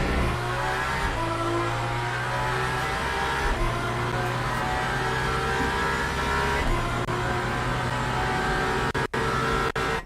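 Racing car engines drone and rev continuously with shifting pitch in Le Mans Ultimate, an Aston Valkyrie GTP among many cars on track, several motors layered together at a steady loud level, a few brief dropouts near the end.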